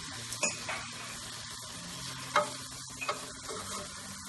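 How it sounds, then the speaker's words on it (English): Spices stirred and sautéed in a pan for mutton pepper fry, a soft continuous sizzle with a few scattered spoon taps, quiet and without talk. "So you want to keep stirring or sauteing so it doesn't get burned."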